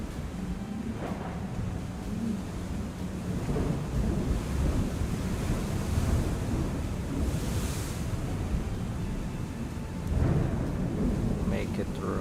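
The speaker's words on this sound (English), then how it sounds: "Yeah, you can hear the storm." A storm at sea in the Seaorama shipping game: rumbling thunder swells in several heavy rolls over a steady wash of rain and crashing ocean waves, loud and close throughout.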